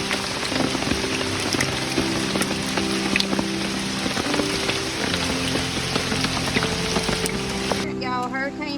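Heavy rain from Hurricane Helene, in the Appalachian region, falls as a steady, dense downpour, a constant loud hiss that continues without a break for the whole stretch, with no voices.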